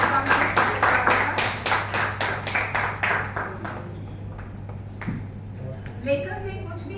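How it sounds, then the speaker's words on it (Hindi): An audience at a gathering honouring journalists claps loudly in a burst of rhythmic applause that thins into scattered claps, with a voice speaking faintly afterward. "जोर से तालियों से स्वागत कीजिए हमारे महान पत्रकारों का।"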